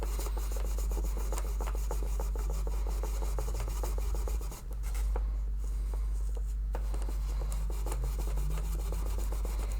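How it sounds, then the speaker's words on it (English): Steady dry rubbing and rasping of cardboard against the fretboard of a 1985 Yamaha FG420-L acoustic guitar during cleaning, a continuous close scraping texture with one brief pause midway, no voices. "You're hearing the cardboard."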